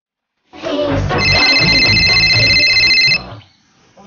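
A telephone bell rings loudly in a short steady burst of bright repeated trills lasting about two and a half seconds, then cuts off, with a little background noise behind it.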